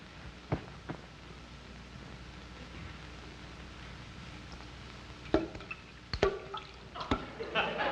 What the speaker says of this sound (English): Darn faucet dripping again.